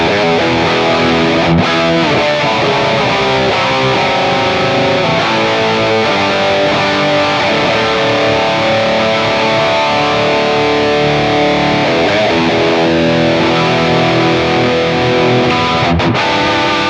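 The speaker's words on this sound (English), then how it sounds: "Let's add some reverb in. Now, I really like this studio reverb." Distorted electric guitar played through a studio reverb on a Hotone Ampero II Stomp multi-effects unit, loud sustained chords and riffs with a washy tail, no talking.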